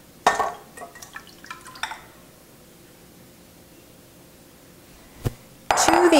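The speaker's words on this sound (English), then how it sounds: "Now I'll go rinse my hands because I got egg whites all over them." Water from a kitchen tap rinses egg white off hands at home, heard as a few short splashes and drips followed by a louder gush of running water at the very end, with no talking.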